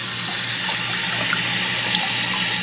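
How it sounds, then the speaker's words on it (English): A toilet tank refilling after a flapper replacement, a steady loud rush of running water with a faint hum underneath, constant throughout and without talking. "turn the water supply back on and allow the toilet to fill up"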